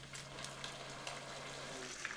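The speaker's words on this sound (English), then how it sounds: "this is gonna sizzle and smoke and bubble" A dense, high-pitched cicada drone fills the warm air in Jeonju, steady and loud, with faint rustling steps underneath.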